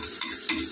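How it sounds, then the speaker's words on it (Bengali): Chopped onion frying in a pan, a soft steady sizzle with two quick scrapes of a stirring utensil, close and quiet, no talking. "পেঁয়াজটা ভাজা হতে হতে"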